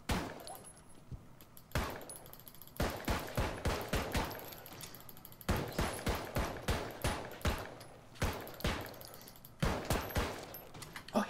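Repeated gunshots ring out in the video game Alone in the Dark: Illumination, firing in quick bursts of several sharp cracks with short pauses between volleys, loud and close.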